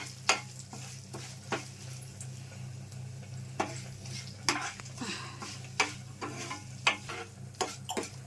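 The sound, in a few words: tempering frying on low flame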